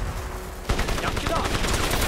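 Rapid gunfire in the video game Crysis, set on an island in the Philippines, bursts in abruptly and continues as dense, loud volleys of shots, with game voices talking over the shooting.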